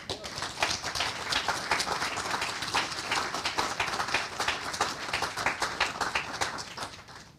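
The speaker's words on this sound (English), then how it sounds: "Can we give them a big applause?" Audience applause fills a hall during a conference talk on family-centred neonatal intensive care in the Covid-19 era: a dense, steady wash of many hands clapping, fairly loud and sustained for several seconds before tapering slightly.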